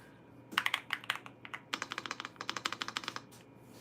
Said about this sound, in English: The keyboard does sound smooth.